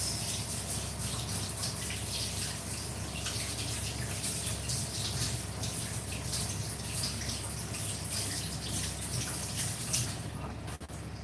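Running tap water pours steadily as a cooking pot is rinsed in a kitchen sink, a continuous close splashing rush that ends abruptly near the close.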